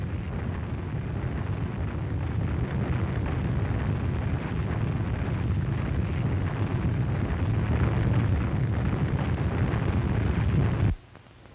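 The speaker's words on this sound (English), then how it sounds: "Steam and other gases burst from the crater with tremendous force." A volcano erupts as steam and gases burst from the crater with tremendous force, a loud, continuous rumbling roar with a windy, blasting texture that cuts off abruptly near the end.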